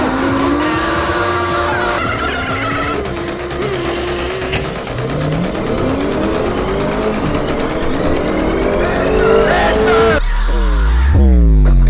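Cart driving in the Roblox video game, a continuous engine-like drone with rising and falling pitch sweeps and a squealing, skidding burst near the end, loud throughout with no talk.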